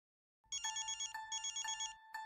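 A mobile phone rings in a Marathi TV serial scene: after a moment of silence, a bright electronic ringtone starts, pulsing in quick repeated bursts, clear and close.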